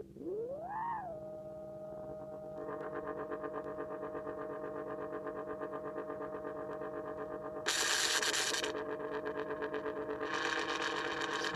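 Wolfram Drums Pure Data patch running on a phone under MobMuPlat, a quiet sustained electronic drone with a swooping opening tone, layered buzzing harmonics and a brighter noisy burst near the end.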